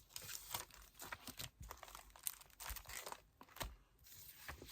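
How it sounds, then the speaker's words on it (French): Quiet, close crinkling and tearing as stickers are peeled from a sheet to decorate a handmade scrapbooking card with a hen-themed swing design, a steady run of small rustles with no talking. "je vais venir décorer mon petit panneau à l'aide de mes stickers"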